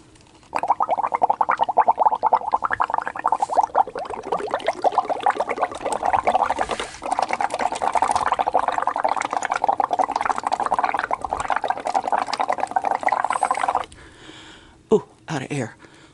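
Air bubbles churning through liquid leather dye for vegetable-tanned leather, a busy gurgling bubbling that runs continuously for about thirteen seconds, then stops with a few small sounds afterward.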